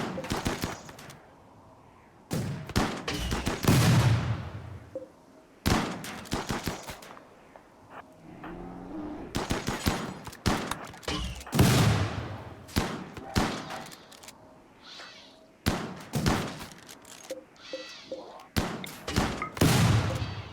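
Automatic turret gunfire from the video game RimWorld, shooting through smoke in repeated rapid bursts separated by short pauses, loud and crackling with dull thuds.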